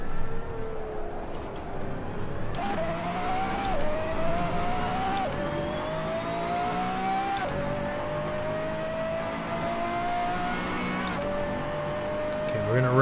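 A race car engine in a VR racing game drones steadily and climbs in pitch through repeated gear shifts, each upshift dropping the tone before it rises again, with talk over the top.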